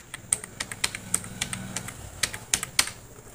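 Keys on a computer keyboard clack close by as a mobile number is entered into a form, a quick irregular run of about a dozen crisp keystrokes with no voices.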